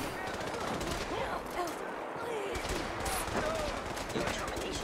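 Sustained gunfire in Fallout 4 during a final defend-the-position battle, dense overlapping shots and bursts running continuously under game voices and background noise.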